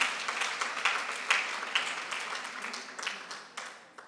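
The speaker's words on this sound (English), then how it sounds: "Can we clap hands for them?" An audience at a literacy and numeracy gathering claps for foundation phase educators, a lively burst of many hands with sharp individual claps that gradually thins and fades.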